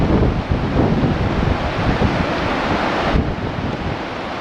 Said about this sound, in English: It's a gentle breeze right now.